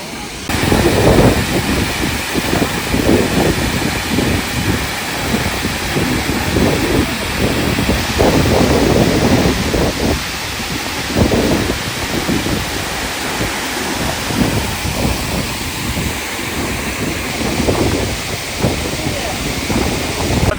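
Athirappilly waterfall roars in a steady, loud rush of pouring water, with spray drifting close by during the monsoon, and faint voices sit under the constant wash.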